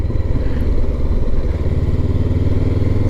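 A Honda CB500X motorcycle is ridden at a steady pace, its engine a loud, continuous low drone with rushing wind noise and no pauses.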